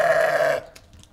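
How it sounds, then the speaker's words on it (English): A goat on a street in Yemen gives one loud, close, wavering bleat, then fades to quiet street background. "Goats everywhere on the street."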